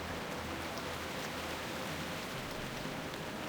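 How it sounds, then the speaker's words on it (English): Steady rain in the World of Warcraft Classic video game, a constant soft hiss of falling drops with no breaks and no voices. "Let's get inside here, outside the rain here, man."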